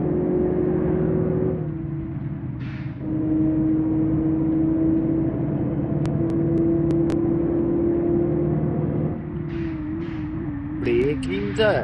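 Steady simulated bus engine drone from the Bus Simulator Indonesia game, a continuous mid-level hum that shifts pitch slightly as it runs, with brief faint clicks and a voice talking over it near the end.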